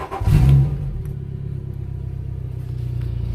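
Outboard motor on a 2006 Southern Skimmer Carolina Skiff cranking to life with a loud surge, then settling into a close, throbbing low idle with a steady pulsing rhythm.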